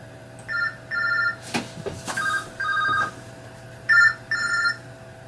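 A telephone rings in repeated double trills, each pair of electronic bursts separated by short pauses, loud and close, with no talking.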